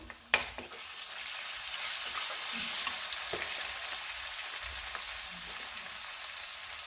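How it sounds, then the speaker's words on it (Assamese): Onion and tomato fry and sizzle in a pan with a steady, dense hiss while being stirred, a sharp utensil clatter near the start and occasional soft scrapes throughout, with no talk. "মই এইখিনি ধুনীয়াকৈ ভাজি ল'ম।"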